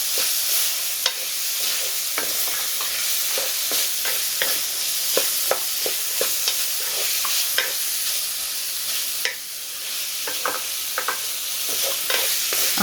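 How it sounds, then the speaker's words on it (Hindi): Boiled mutton stir-fried in a pan over medium heat, a close sizzle broken by frequent sharp spatula scrapes and clacks, with no voices. "गोश्त को हमने पहले बॉईल किया हुआ है, इसे हम बस 10 मिनट ही भूनेंगे।"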